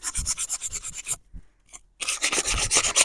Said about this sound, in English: So I'm just giving this a scrub round, looking for any rust, any dark patches.